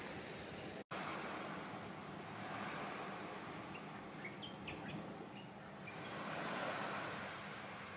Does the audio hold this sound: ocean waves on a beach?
yes